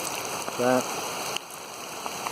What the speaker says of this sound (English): see the rain out there. Looks like it's coming down pretty well.